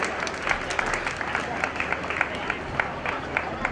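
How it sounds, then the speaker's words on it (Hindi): An audience claps loudly to honour guests at a gathering with Muni Shri Pramansagar Ji Maharaj, a dense steady patter of many hands with sharper individual claps popping out, all at fairly even strength for the whole stretch. "आप लोग जोरदार तालियां बजाकर उनका सम्मान कर दें"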